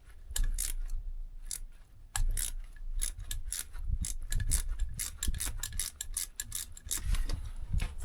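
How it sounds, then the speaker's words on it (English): A ratchet wrench with a chrome socket gives rapid clicking pawl ratchets in irregular bursts, close and crisp over low rumbling handling noise, with no talking. "For Christmas I got some new these are called ratchets, right?"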